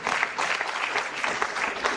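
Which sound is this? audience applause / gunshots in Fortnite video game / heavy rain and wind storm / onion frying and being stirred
audience applause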